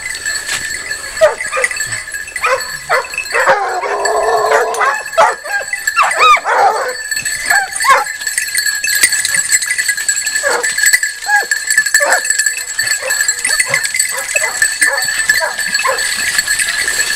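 A pack of Fauve and Anglo hunting hounds baying on the trail of a wild boar, repeated excited barks and yelps coming in dense overlapping bursts, moderately close and loud with no talk.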